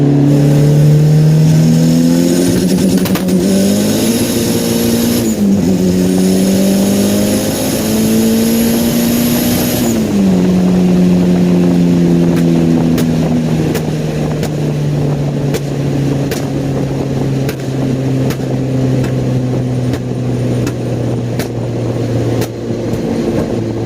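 A turbocharged Honda Integra with rolling anti-lag set near 5,500 RPM revs loudly and steadily, its engine pitch climbing and dipping in sustained close-up drones, with sharp crackling pops from the anti-lag running through the second half.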